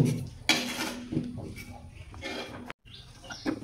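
Dried fish being stirred in a cooking pot, with intermittent scraping and clinking knocks of a utensil against the metal, close and fairly quiet, amid soft background voice and a brief dropout.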